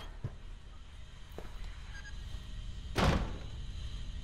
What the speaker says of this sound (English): Door shut on me.